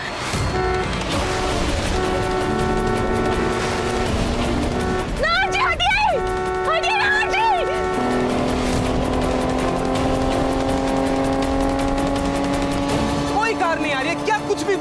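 A big white car comes head-on, its engine a constant loud roar under dramatic music, with several sharp horn toots in two clusters midway and another near the end.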